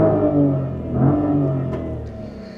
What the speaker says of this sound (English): the one good thing about this car is this, the engine sound. It's a BMW inline 6